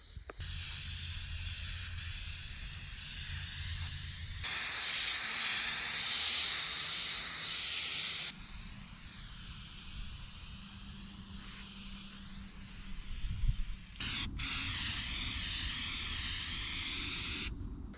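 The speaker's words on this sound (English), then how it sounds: "I'm gonna start spraying this sucker." A spray can or spray gun paints an old boat trailer in long bursts of hissing spray, several seconds each, broken by short pauses and softer, fainter stretches, with no talking.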